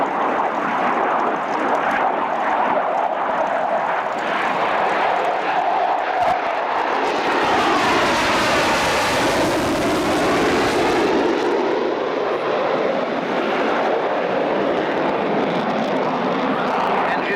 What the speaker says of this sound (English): On the Tornado, like the aircraft, the product of multinational design and construction.